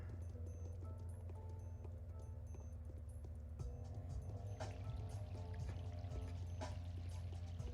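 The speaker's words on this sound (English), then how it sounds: "Why does it sound like a toilet flushing? Well, like the water rising back into the toilet after it's flushed." Ambient music from the video game Pathologic hums low and steady with layered drones and faint splashing, gurgling textures that resemble water refilling a toilet tank after a flush, quiet and continuous throughout.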